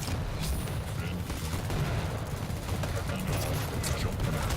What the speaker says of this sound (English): Nice nail gun work.